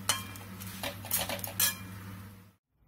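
A spoon scrapes and clinks against a metal pan and bowl as fried curry leaves and garlic are scooped out, a few soft close-up clatters over a faint hum that fall silent at the end.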